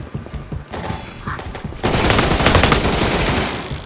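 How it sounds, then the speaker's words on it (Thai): Gunfire in the Resident Evil RE:Verse game: scattered shots first, then a dense, loud volley of rapid automatic fire for the last couple of seconds, with no speech over it. "อะไรคือการยิงแล้วมันไม่โดน"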